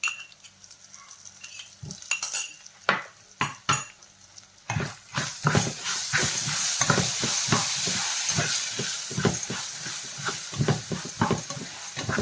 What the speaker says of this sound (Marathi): मसाला आपल्याला थोडासा परतून घ्यायचा आहे